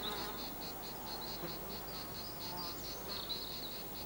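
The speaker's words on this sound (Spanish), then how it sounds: "Los insectos constituyen el grupo animal más numeroso que existe" Insects buzz steadily in an Iberian forest, a dense continuous drone with pulsing high whines running through the whole stretch, moderately close and uninterrupted by any voice.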